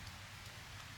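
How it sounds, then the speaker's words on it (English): Light rain falling in the Sipsey Wilderness woods, a soft, even patter of drops on leaves and ground, quiet and steady over the brief moment with no voices. "Still just a light rain."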